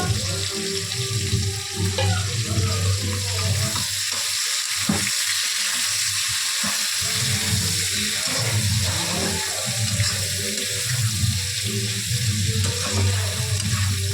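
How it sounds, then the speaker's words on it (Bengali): Onions fry in hot spiced oil for biryani, a continuous loud sizzle with frequent scraping stirs and clinks of a utensil against the pan. "পেঁয়াজটা লাল লাল করে এই যে ভাজা হয়ে গেল আমার।"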